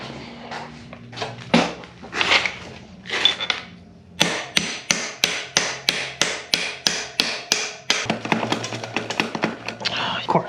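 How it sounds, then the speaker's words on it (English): A hammer strikes a bolt into a 2021 motorcycle fork during fork seal installation, first in a few scattered hits, then a fast, evenly spaced run of sharp metallic blows, loud and close, ending in quicker, lighter taps. "Just fucking hit the bolt in it."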